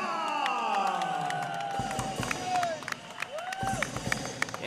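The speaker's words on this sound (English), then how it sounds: "And the crowd roaring on his feet." A fight crowd at Kumbati 14 Battle of Mactan roars and cheers as a fighter enters the ring, with a dense continuous roar, rising whistles and shouts, and voices mixed in.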